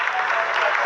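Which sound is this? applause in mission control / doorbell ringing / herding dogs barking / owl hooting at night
applause in mission control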